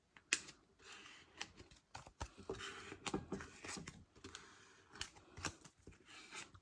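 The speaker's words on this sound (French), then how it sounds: "une petite carte, ancienne carte téléphonique pour chasser l'air" An old phone card scraped across paper to smooth out trapped air, giving a run of close, dry scratchy strokes and small taps that repeat unevenly.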